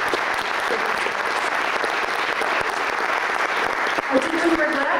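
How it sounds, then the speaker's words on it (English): An audience at a community services event applauds in a continuous, fairly loud patter of many hands for five seconds, with a voice briefly audible near the end. "So please, a round of applause for us."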